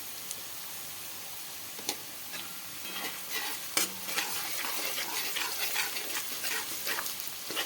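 Ground green chili and clove paste sautéing in a pan for raw papaya curry, giving a soft, steady sizzle with occasional sharp clicks of a spoon, close and fairly quiet, with no talking.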